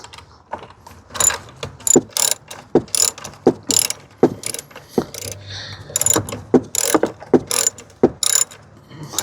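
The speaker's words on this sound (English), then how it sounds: "we're gonna use our 10mm socket to tighten this up" A ratchet with a 10mm socket tightening the negative battery terminal on a 2022 Jeep Renegade, close and loud, in quick clicking bursts with short pauses between strokes and no talking.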